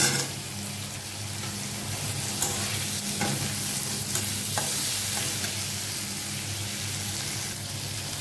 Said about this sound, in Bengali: আমি এখন ম্যাগিটা ছেড়ে দেবো।